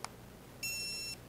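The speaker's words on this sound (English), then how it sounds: "So I just hit the beep." Single electronic beep from a dog training collar's beep function, a short steady high-pitched tone lasting about half a second, faint and alone after a small click.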